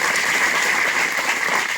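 A crowd of listeners at a school speech gathering applauds, a loud, dense and steady wash of clapping that fills the whole stretch without a pause.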